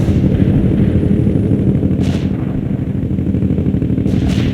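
An artillery barrage rumbles in the video game For the Motherland, a continuous heavy booming roar with two sharper blasts cutting through, loud and dense throughout with no speech.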